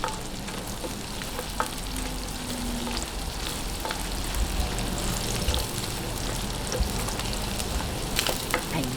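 Chopped garlic and onion sauté in hot oil in a pan for pancit bihon guisado, a dense, even sizzle that holds steady and close, with occasional light stirring scrapes and no talk.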